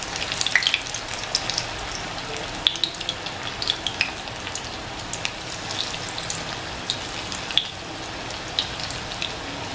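Round bombil fish fritters frying in oil over a low gas flame, a steady close crackling sizzle with scattered sharp pops throughout.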